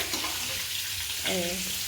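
Parboiled, peeled potatoes fry in a pan with a little ginger and garlic, a close, steady sizzle with faint scraping of a spatula and a soft voice-like tone near the end.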